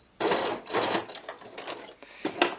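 A sewing machine stitches pixie wings onto a top in several short, close bursts of rapid clatter separated by brief pauses.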